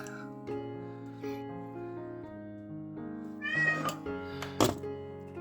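A cat meows again and again close by, drawn-out tonal cries that grow louder and more insistent toward the end, with a soft thump near the close.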